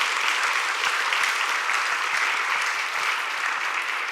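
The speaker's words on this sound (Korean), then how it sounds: "우리 한번 박수 한번 해주시고요" A church congregation applauds together in a sustained, even burst of many hands clapping that fills the room with no talking over it.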